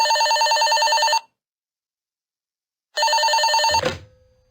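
An old-style telephone bell in the video game Five Nights at the Krusty Krab rings loudly in two bursts separated by a pause, the second cut off abruptly by a click.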